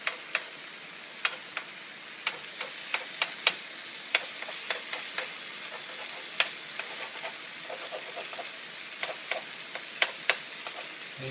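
Eggs frying in a pan for a quick breakfast, a steady crackling sizzle with sharp pops and spits scattered throughout, close and continuous with no talking.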